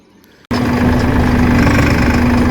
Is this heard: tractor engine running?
yes